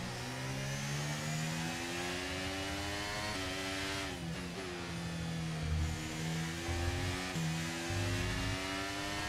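F1 car engine from the F1 23 racing game at the Canadian Grand Prix, a loud, continuous high-revving whine that climbs steadily and drops sharply at each gear shift, with no voices.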